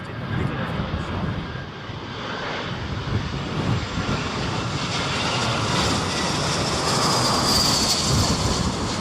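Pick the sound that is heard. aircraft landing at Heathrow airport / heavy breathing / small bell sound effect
aircraft landing at Heathrow airport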